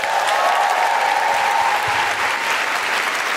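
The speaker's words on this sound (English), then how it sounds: "Big round of applause for everyone here at South Bank Centre." Loud, sustained applause from a live audience at the Southbank Centre in London, dense clapping throughout with a steady tone ringing faintly beneath it.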